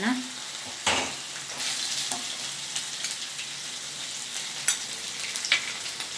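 Onions fry with ginger-garlic paste in a pan for chole chana masala, giving a steady sizzle with occasional sharp spoon scrapes and stirs, close and alone without voices.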